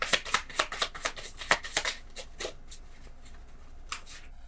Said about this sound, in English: Let's pre-shuffle.